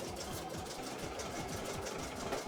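A computerised embroidery sewing machine stitches with a rapid, even mechanical rhythm, continuous and fairly quiet, with no talking.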